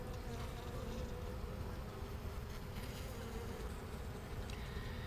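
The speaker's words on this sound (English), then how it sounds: "They're a little excited about us being in here right now." Honey bees in an open hive, stirred up during an inspection, make a dense, steady buzzing drone that stays close and constant throughout, with no voices.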